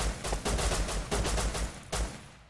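Rapid bursts of gunfire in the survival game Rust, several loud close volleys in a choppy rhythm with brief gaps, and no talking.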